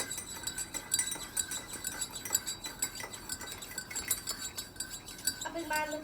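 A teaspoon stirs tea in a cup, ringing in quick, repeated clinks against the sides at close range, fairly quiet and continuous.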